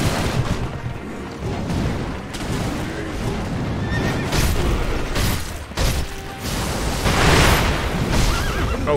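A horse in Sekiro, panicked by a firecracker, whinnies loudly and repeatedly amid booming blasts and clattering hooves. The shrill neighs rise above a dense, noisy battle backdrop.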